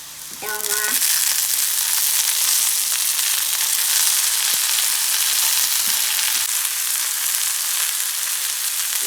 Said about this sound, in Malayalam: ഇനി നമുക്ക് ഇളക്കാം